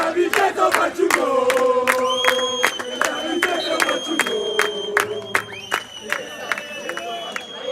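A large stadium crowd roars and chants together, with loud rhythmic claps and shouts filling the air continuously and no distinct talk.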